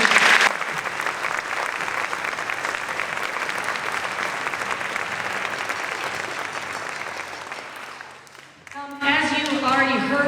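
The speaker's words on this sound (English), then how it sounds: "Can we give a round of applause to those that" At a 5th and 6th grade spring school band concert, a large audience breaks into long, loud applause that keeps a steady level and then fades, followed by a voice speaking over the room near the end.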